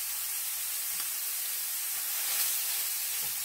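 Sage sausage renders in bacon grease in a frying pan, giving a steady, fairly faint high hiss and sizzle with a few soft pops and no talking.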